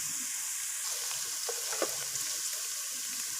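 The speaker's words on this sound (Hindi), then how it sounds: "प्याज हमारे हल्के से ब्राउन हो चुके हैं।" Onions frying in a pan for Lahori chikar cholay, a steady close sizzle with a few soft stirring knocks in the middle, no talking.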